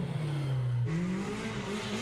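A Polaris RZR side-by-side UTV engine holds a steady high rev, then shifts and climbs again. The loud, continuous exhaust note sounds close, with no talk over it.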